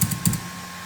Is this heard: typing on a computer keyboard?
yes